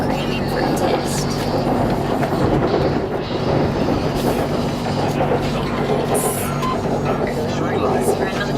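Bangkok BTS Skytrain carriage on an early-morning ride, with a steady loud rumble and hum of the train in motion and occasional clacks, continuous throughout while a person talks over it.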